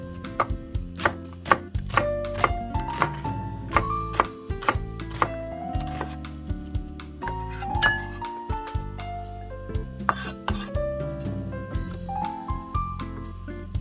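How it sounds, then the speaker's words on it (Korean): A knife chops onion on a cutting board in a Korean kitchen while Spam gochujang stew is prepared: rapid, close, crisp taps in an irregular rhythm, continuing steadily with no talk. "양파 썰어주세요"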